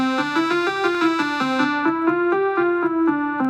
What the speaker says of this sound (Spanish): le voy a ir poniendo un filtro que atenúa los armónicos agudos